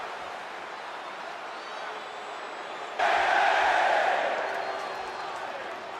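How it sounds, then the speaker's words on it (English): A live wrestling show audience at an LCW event rises into a sudden collective chant that swells loudly mid-way and then slowly fades, heard from a distance. "First crowd chant ever."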